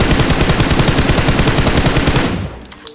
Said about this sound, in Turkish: Silah hep sağa sola kaçıyor gençler.